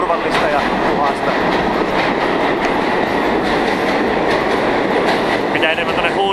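A Manhattan subway train runs loud and close, with a steady rumbling roar and rhythmic clickety-clack of wheels over rail joints throughout.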